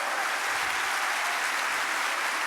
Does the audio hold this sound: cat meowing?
no